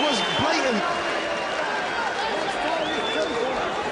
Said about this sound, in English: Boos and jeers from the crowd